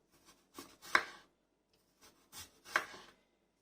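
A knife cuts two potatoes into thin slices, several soft, close crunching cuts in two short groups separated by a pause.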